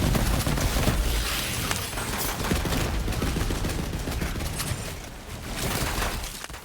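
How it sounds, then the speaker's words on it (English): Torgue Juliet's Dazzle legendary assault rifle fired in Borderlands 3, dense rapid bursts of loud, booming gunfire with shattering impacts, sustained over several seconds with a brief lull near the end. "I think it's just one of the cleanest looking ARs that Torgue has ever made and sounds amazing when fired."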